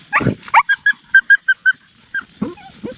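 Dog calling for its owner at night in rural northeastern Thailand, with a burst of close, high yelping barks in quick succession, a short pause, then a couple of softer whines.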